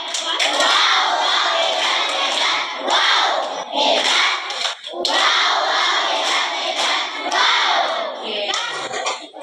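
Children in a church catechism class doing the 'tepuk hebat' clapping routine, bursts of rhythmic group clapping mixed with loud shouted chants, repeating in several waves with short pauses between.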